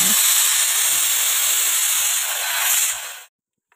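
A pressure cooker of khichdi releases steam in a loud, steady hiss for about three seconds, then cuts off sharply into silence.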